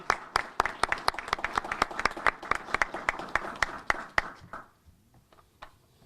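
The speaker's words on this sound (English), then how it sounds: "Can we give a round of applause for our law enforcement officials?" A room at a U.S. senator's press conference on swatting applauds law enforcement officials, with brisk, dense clapping that thins out and stops after about four and a half seconds, leaving near silence.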